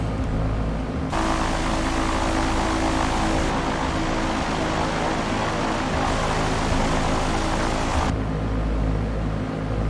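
Propeller airplane engine drones steadily as the aircraft lands on the runway at Harrisonville Airport in X-Plane 11, a loud continuous hum with tonal harmonics and wind noise that shifts in level a few times.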